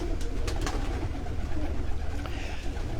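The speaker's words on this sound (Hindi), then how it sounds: "ये टैडी ब्रीड का जो कबूतर है दोस्तों" A teddy breed pigeon coos softly in low, repeated throaty calls against a steady background hum, with no voices.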